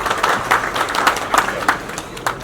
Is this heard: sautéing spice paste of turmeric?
no